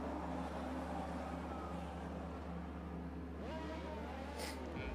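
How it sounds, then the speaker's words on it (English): Formula 1 racing-game cars on the grid at Silverstone: a steady, loud engine drone holds, then rising multi-tone revs climb as the race starts, with faint voices underneath. "As we now get ready to hear those engines revving."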